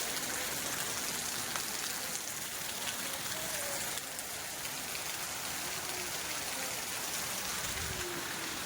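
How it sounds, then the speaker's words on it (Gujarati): Heavy rain pours down steadily outdoors, a dense, constant wash of drops on surfaces, with faint voices occasionally in the background. "જબરજસ્ત વરસાદ પડે છે"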